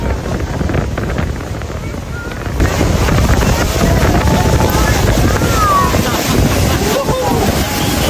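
Loud wind buffeting the microphone mixes with rushing, splashing water throughout a boat ride toward Niagara Falls, a steady roar that swells after a few seconds, with no talk.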